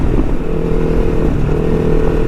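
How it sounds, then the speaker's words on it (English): Kawasaki Versys 300X motorcycle sliding its rear end on a dirt road, a loud continuous engine drone with steady low rumble and loose clatter, close and constant throughout with no talk. "the bike's got plenty of power to slide that rear end out on these dirt roads"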